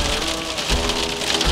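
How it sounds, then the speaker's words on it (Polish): Hailstones pelt a camper van in a heavy storm, a loud unbroken clatter on the roof with a few heavier thuds among the hits, close and with no one talking. "to jest grad."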